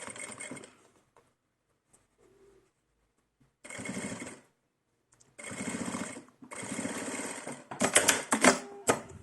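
Sewing machine stitching a dress for a Blythe doll, running in several short bursts separated by silences, with the final burst louder and choppier.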